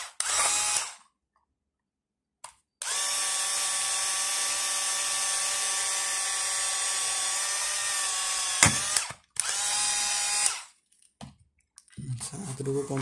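Power drill boring holes for nuts in a homemade searchlight, a steady high whine running in long bursts with short pauses, the motor spinning up and cutting off several times, loud and close.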